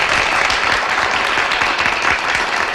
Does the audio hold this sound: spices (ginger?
no